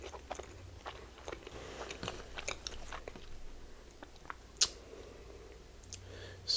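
Mini burger sliders are chewed close to the mic during a mukbang, with soft wet bites, squishy mastication and a few crisper clicks, quiet and continuous apart from one sharp smack.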